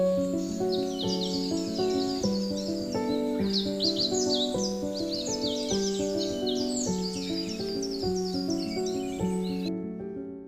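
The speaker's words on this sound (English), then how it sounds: "Hundreds of tropical bird species live and nest among the high branches" Dense chorus of tropical birds calling high in a Guyana rainforest canopy, many overlapping chirps, trills and whistles running continuously at moderate volume, with a steady insect-like hum underneath and no talk.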